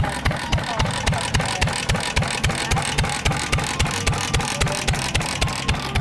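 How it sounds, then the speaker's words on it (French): A 1921 four-stroke stationary engine at a country fair runs steadily, its even, rapid thumping exhaust beats repeating close and loud without pause. "Ça, c'est un moteur 4 temps."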